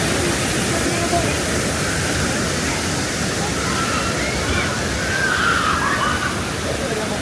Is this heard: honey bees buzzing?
no